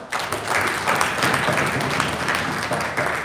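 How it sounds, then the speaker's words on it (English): Steady applause from a crowd of delegates at a political party convention, a dense wash of clapping that holds at a moderate level for a few seconds. "while you clap your hands"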